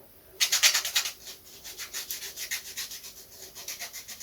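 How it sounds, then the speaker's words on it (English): Hand sanding of a shallow curve into a wooden part for a hummingbird kit, rhythmic back-and-forth rasping strokes close up, strongest at first and then softer and steady, with no voices. "I've just got to sand a very shallow curve into this."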